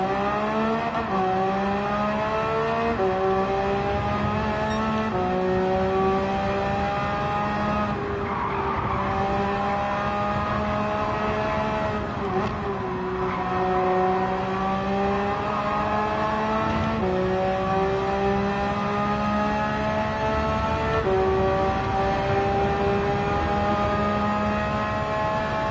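Race car engine in Gran Turismo 7, held at high revs through long steady pulls that drop and climb again with each gear change, mixed with tire squeal, loud and continuous for the whole stretch.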